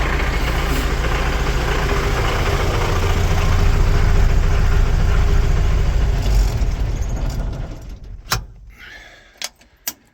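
A ZIL truck fitted with a replacement diesel engine idles loudly and close with a steady rumbling chug, then shuts off, leaving a few sharp clicks and knocks in the quiet afterward.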